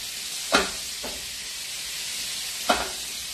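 Shrimp sizzling in a hot frying pan, a constant bright hiss broken by two sharper spitting bursts as they are turned, close and fairly loud with no voices.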